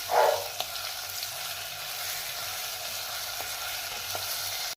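Ground chili masala and curry leaves fry in hot oil in a pan for a kadhi, with a steady close sizzle and a few light stirring knocks throughout.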